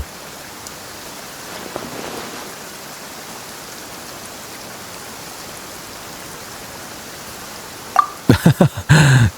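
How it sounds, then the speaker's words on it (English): Steady, dense rainfall from the video game Genshin Impact fills the scene with an even hiss, ending in a few louder, sharp rattling bursts over the last second. "Perhaps today's rain arrived thanks to you."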